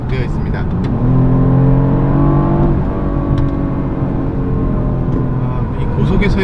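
A BMW 2 Series coupe engine revs hard toward high rpm in a sport driving setting, a loud, steady, close engine drone whose pitch climbs through the gears for several seconds.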